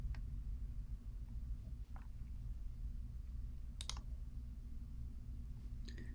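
A computer mouse clicks a few times while a region is selected in software, giving sparse, sharp, quiet clicks over a low steady hum.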